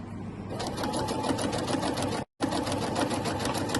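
A sewing machine stitches steadily down the side of an apron pocket, a close, continuous rapid whirr that cuts out for a brief moment before resuming at the same pace.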